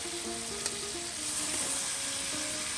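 Pieces of rohu fish frying in hot oil in a home kitchen, a continuous soft sizzle with faint tonal hum and an occasional small click in the background.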